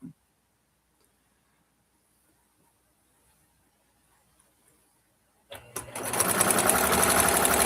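A sewing machine stitching seams starts up after a long near-silent stretch, then runs loud and steady with a fast even whirr near the end.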